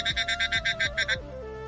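A frog croaks in a quick run of about nine evenly spaced, nasal pulses close by, then stops, leaving a faint steady hum.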